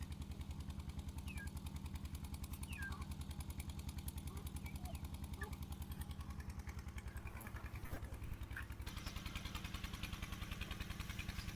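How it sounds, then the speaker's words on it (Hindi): A neighbour's tubewell pump chugs with a steady, rhythmic throb, faint and distant, running without a break in a quiet village yard. "साथ ही हमसायों का ट्यूबवेल भी चल रहा है।"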